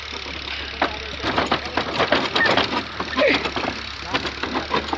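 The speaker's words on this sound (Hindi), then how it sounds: "वहाँ पर ट्रैक्टर हल चला रहा है" A tractor ploughs a nearby field, its engine giving a steady mid-pitched drone with knocking pulses and rising and falling load, while people talk over it throughout.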